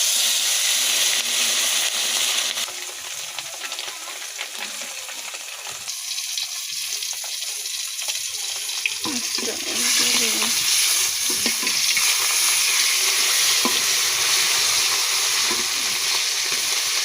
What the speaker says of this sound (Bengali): আজকে আমি একটা মাছ ভাজবো।